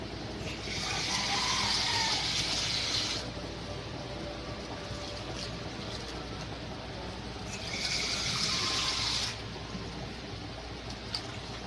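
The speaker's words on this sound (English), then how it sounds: "still need to add water" Water pours into a pot of rice for Nigerian jollof in two separate gushes, each a few seconds long, over a quiet steady background hum.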